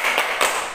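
Children's clapping song in an online church gathering: two quick, sharp hand claps ring out close and loud, evenly spaced.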